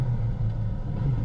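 A rally car on a closed Croatian Rally stage road in the 2023 WRC event approaching from behind, a low, steady engine rumble, moderately near and without speech.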